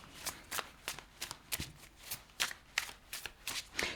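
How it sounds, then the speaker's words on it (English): Tarot cards being shuffled by hand make a quick series of crisp riffling bursts, about a dozen sharp flutters in an uneven rhythm, close and fairly quiet. "I usually don't pull cards out when I'm shuffling, but these two came flying out."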